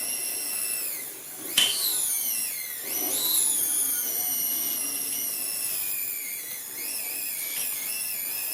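A cheap RC winch motor running on a little throttle gives a steady high-pitched electric whine with shifting pitch, dipping and rising as the speed changes, plus a sharp click partway through.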